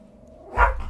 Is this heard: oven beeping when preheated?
no